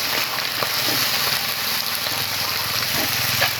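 Half-boiled winter vegetables stirred in a hot kadai give a steady, close sizzling hiss, with faint soft scrapes and no talking.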